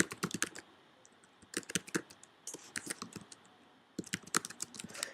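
A computer keyboard clatters in quick bursts of close, crisp keystrokes with short pauses between runs, as someone types to log in to a school account.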